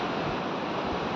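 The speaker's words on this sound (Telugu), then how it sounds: "మీరు చూస్తున్నారు గోవా బాగా బీచ్. బ్రహ్మాండమైన లొకేషన్." Morning surf at Baga Beach in Goa, a continuous broad wash of breaking waves heard up close and fairly loud, with some wind noise on the microphone and no voices.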